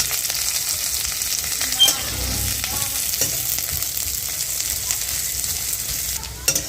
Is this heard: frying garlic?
yes